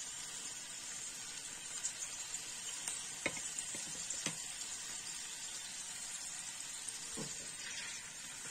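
A monkfish tail sizzles quietly as it fries in a pan, a soft steady hiss with a few faint clicks and taps of utensils, no talking.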